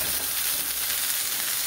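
T-bone steak frying in a hot pan, a steady bright crackling sizzle heard close up with no voices.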